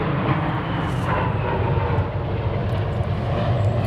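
A jet aircraft roaring overhead, a loud, steady broadband rumble that fills the whole stretch without breaks and with no voices.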